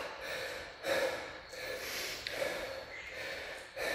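Heavy, labored breaths after a punishing Spartan 100 workout: several loud, close gasping inhales and exhales, with a sharper snort-like burst about every second and a half.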